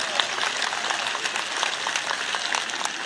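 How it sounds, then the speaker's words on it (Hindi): A university convocation audience in Lucknow breaks into sustained applause, dense even clapping heard up close and fairly loud throughout, with no speech on top. "तो एक बार तालियों के गड़गड़ाहट से स्वागत कर दीजिए।"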